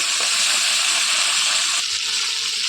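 Yardlong bean paste frying in a pan gives a loud, steady hiss that fills the whole stretch without a break.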